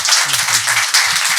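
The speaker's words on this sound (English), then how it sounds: "please join me in applauding his wonderful contributions" An audience applauds at a diplomatic event on India–UAE relations, a dense burst of many hands clapping close and loud for a brief stretch.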